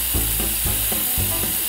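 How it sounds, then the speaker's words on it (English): A spray paint can sprays gold paint onto jail cell bars, giving a steady, close, breathy hiss that carries on throughout, over a soft, regular low thumping. "Let's get spray painting."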